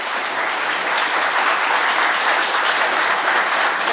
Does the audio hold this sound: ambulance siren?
no